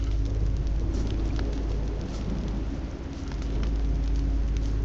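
Steady rain pours in the wintry The Walking Dead: All That Remains game, a dense continuous hiss over low rumble that holds loud throughout with a slight dip midway.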